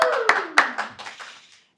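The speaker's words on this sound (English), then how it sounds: "How about a round of applause?" Applause from a gala audience: a few sharp, scattered claps ring out close by, with a brief falling vocal whoop, then thin out and die away within two seconds.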